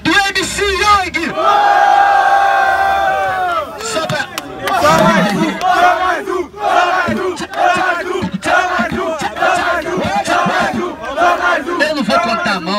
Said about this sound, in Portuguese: Barulho pra quem gostou mais dos freestyles e da rima do MC Young.